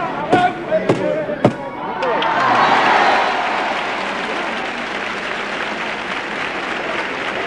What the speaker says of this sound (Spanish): Mientras aplaude el público a las saetas que se han oído